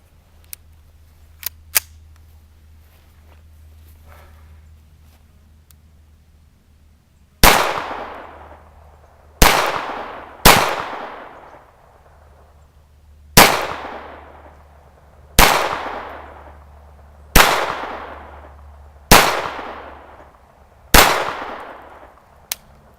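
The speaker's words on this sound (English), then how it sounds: "Let's take the first shots out of this." A Ruger 22/45 Lite pistol fires eight sharp, close shots in an uneven rhythm, each crack followed by a short ringing decay, after a few faint clicks and no talking.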